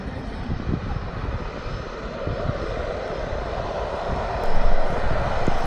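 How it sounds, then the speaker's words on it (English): A small passenger aircraft on final approach to Barra's beach airport drones steadily at a distance, a low continuous engine rumble mixed with wind that swells slightly louder near the end. "I saw an aircraft on final approach to the beach."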